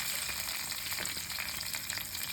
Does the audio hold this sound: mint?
yes